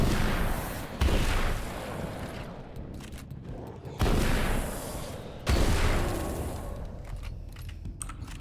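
Sawed-off shotgun blasts in Alan Wake's American Nightmare, three loud booming shots spaced a few seconds apart, each with a decaying tail, no talk.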